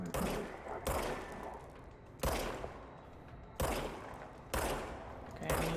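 Gunshots fired from a handgun in the video game Control, four or five sharp loud blasts spaced about a second apart, each with a ringing decay into a quieter room tone.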